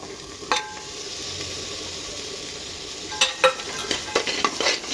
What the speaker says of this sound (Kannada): ಚೆನ್ನಾಗಿ ಇದೆಲ್ಲ ಫ್ರೈ ಮಾಡ್ಕೊಳ್ಳೋಣ